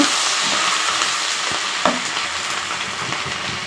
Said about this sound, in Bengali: চিংড়ি মাছটা আমি হলুদ দিয়ে নুন দিয়ে তেলের মধ্যে একটু ভেজে নিচ্ছি